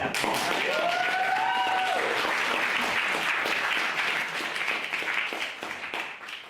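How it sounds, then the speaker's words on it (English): Loud, sustained applause from a crowd at a debate event, with a brief whistle near the start; the clapping holds strong and then eases slightly toward the end. "massive round of applause for Dermot."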